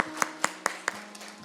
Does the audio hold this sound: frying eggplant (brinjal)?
no